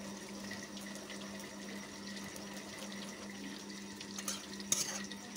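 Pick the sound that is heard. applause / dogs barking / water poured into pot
water poured into pot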